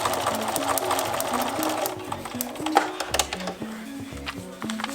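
A sewing machine stitches a paper pieced quilt block in quick rhythmic bursts, its mechanical needle clatter starting and stopping several times at close range.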